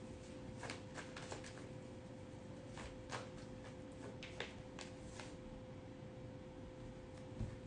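Soft riffle shuffles of a tarot card deck, faint and close, with quick flurries of card flutter repeating several times over a quiet room hiss.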